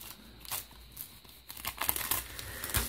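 Close crinkling and ripping of tape and packaging, soft at first, then a louder burst of tearing toward the end.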